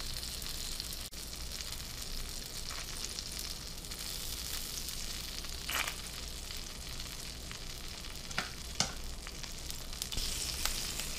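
Flatbread sandwich toasting in a hot pan, a soft steady sizzle with a few faint clicks and light scrapes.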